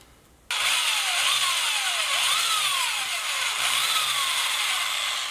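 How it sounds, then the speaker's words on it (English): A power drill bores a hole through a small fishing lure to fit a weight, a steady loud whirring drone starting abruptly after a brief quiet moment and running continuously with slight pitch swoops. "need to drill out the hole for the weight"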